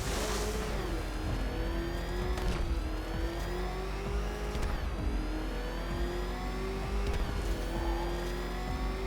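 Batmobile engine in Batman: Arkham Knight, a loud, steady roar that rises in pitch as it revs and accelerates, with sharp thuds and impacts now and then.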